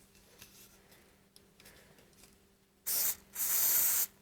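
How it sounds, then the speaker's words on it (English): Hairspray from an aerosol can, two sharp hissing sprays close by, a short one and then a longer one, after a few seconds of quiet handling sounds. "next we're gonna try hairspray"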